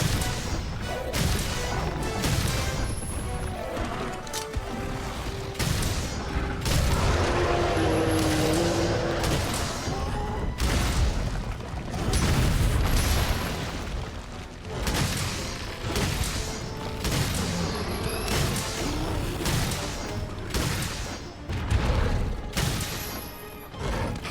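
Heavy bowgun fire in Monster Hunter World, a rapid series of loud, punchy blasts and crashing impacts repeating throughout, layered over game music and effects.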